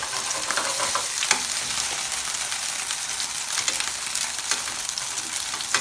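Pork gyoza dumplings sizzle steadily in a hot pan, a continuous close hiss with occasional small pops and crackles and no talking over it.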